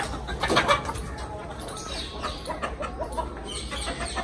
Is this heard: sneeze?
no